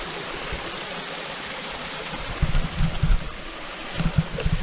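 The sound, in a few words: stream water while collecting fresh water on a hike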